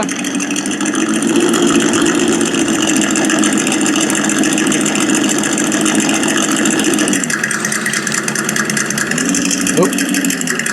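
ESS dual sound module in an Axial SCX6 RC car playing a simulated engine idle, a loud steady synthetic rumble that dips and shifts slightly, with a voice speaking over it.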